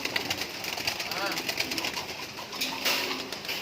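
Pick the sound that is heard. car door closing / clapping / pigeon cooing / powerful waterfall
pigeon cooing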